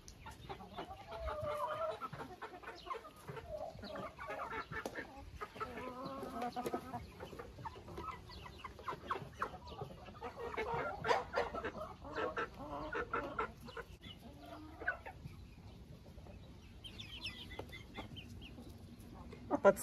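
Chickens and chicks cluck and chirp in a backyard coop while being fed soaked bread, a busy, fairly soft, irregular chatter of overlapping clucks that runs throughout.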